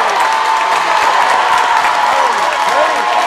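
A high school boys varsity basketball crowd cheers and applauds steadily through the whole stretch, a loud, dense roar of voices and clapping inside a gym, with a commentator's voice faintly mixed in.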